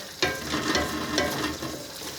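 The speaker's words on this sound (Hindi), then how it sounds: "आलू और चिकन हमारा अच्छी तरह भून चुका है।" Potatoes and chicken frying together in a pot, a steady close sizzle broken by a few sharp stirring scrapes, with no talk.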